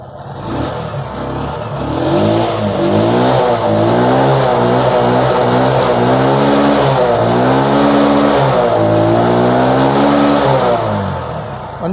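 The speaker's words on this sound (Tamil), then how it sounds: "ஸ்டார்ட் பண்ணிட்டேன். உங்களுக்கு அந்த ஐட்லிங்லேயே வித்தியாசம் தெரியும் பாருங்கள்." A TVS XL100 BS6 moped engine, serviced for a starting and pickup problem, runs close by after starting, its pitch wavering and rising slightly as it settles into a steady idle, with no talking.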